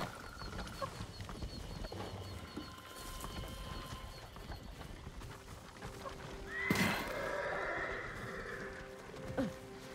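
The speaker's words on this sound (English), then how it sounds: "Follow those horses." Horses whinny and snort amid clopping hooves in Ghost of Tsushima, with a loud, sharp neigh standing out partway through over a steady outdoor background.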